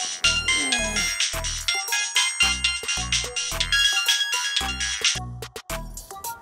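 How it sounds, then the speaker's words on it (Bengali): A mobile phone plays a bright melodic ringtone, loud and near, its bouncing notes and bass pulses repeating in a steady rhythm for the whole stretch. "আমার ফোন বাজে? ফোন ধর।"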